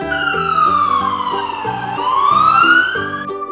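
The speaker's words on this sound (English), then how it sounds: "Black police car." A toy police siren sweeps down and back up in pitch over a cheerful electronic melody, loud and close, with no voices.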